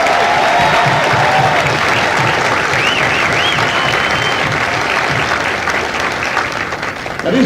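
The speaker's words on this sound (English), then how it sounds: "Would you join me in a final round of applause for the Marines who make Marines" Loud sustained applause from a large outdoor crowd honouring drill instructors at a Marine Corps recruit graduation ceremony in San Diego, a dense even roar of clapping with a few whoops, tapering slightly at the end.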